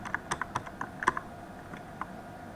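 Numbers are typed into Microsoft Excel on a computer keyboard: a close, quiet run of irregular clicky keystrokes, then a pause and a single later tap.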